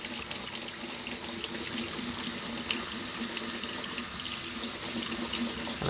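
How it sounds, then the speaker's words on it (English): Tap water runs steadily into a kitchen sink as freshly washed items are rinsed, a continuous close hiss and splash with no voices. "we're going to rinse them so those bubbles are gone"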